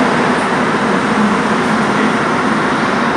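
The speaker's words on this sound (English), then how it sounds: "Subway" A loud, steady rumbling roar fills the space, like a subway train running underground in Mexico City, constant throughout with no voices.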